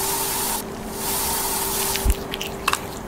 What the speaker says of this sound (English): Don't know if I have enough spray to kill it.